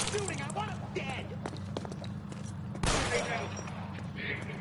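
Gunfire in a video game firefight: a dense rattle of shots under loud talk, with a sharp, louder burst near the end.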